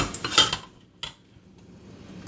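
Angel hair pasta with tomato and basil being mixed around in a pan, a few clattering scrapes of utensil against the pan, near and brief, followed by a single lighter clink and quiet.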